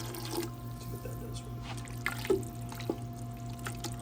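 Water pours into a pot of chili on the stove, a steady low liquid trickle with a few faint splashes under a constant kitchen hum.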